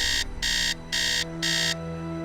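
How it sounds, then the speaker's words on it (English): Alarm clock in the Nancy Drew game Message in a Haunted Mansion rings in three loud, evenly spaced electronic beeping bursts over a low humming background. "I hate the alarm clock sound effect"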